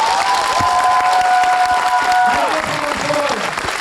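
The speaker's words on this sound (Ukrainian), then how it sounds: "Аншлаг у залі та гучні оплески" Loud, dense applause from a large crowd in a packed hall in Zhytomyr, Ukraine, steady throughout, with a voice talking over it partway through.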